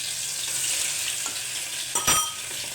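Garlic-ginger paste tempering in hot oil with mustard seeds, cumin and ajwain for a cluster bean curry, a loud steady close sizzle with a brief crackling flare near the end.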